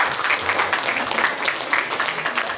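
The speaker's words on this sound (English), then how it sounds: "Would you please give a little round of applause, a little clap to Ollie for Aerospace Bristol." Audience applause at a live show at Aerospace Bristol, a steady wash of clapping from many hands sustained throughout, with some voices mixed in.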